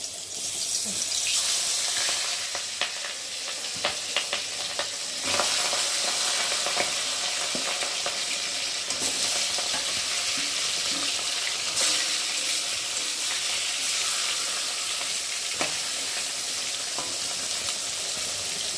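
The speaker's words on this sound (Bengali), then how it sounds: "তেলটা গরম হয়ে গেছে আর এখন এই যে নুনগুলো তো মাখিয়ে রাখা পেটিগুলো এক এক করে ভেজে নেবো" Salted katla fish belly pieces frying one by one in hot oil, a loud, steady crackling sizzle with scattered pops throughout and no talk over it.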